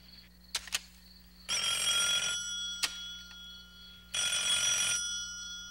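An old landline telephone rings indoors in a quiet room, two long trilling bursts of the bell separated by a pause, with a few sharp clicks before and between them.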